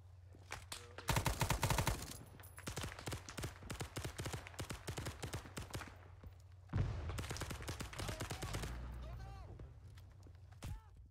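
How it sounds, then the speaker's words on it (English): Rapid machine gun suppressing fire in Arma 3 S.O.G. Prairie Fire, loud sustained bursts of close automatic shots in a Vietnam-era battle, with players talking over the shooting. "Suppressing fire!"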